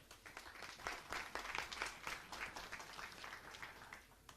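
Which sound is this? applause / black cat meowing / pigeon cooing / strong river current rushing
applause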